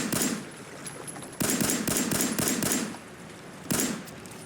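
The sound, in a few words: 10mm pistol shots at fish, video game Fallout 4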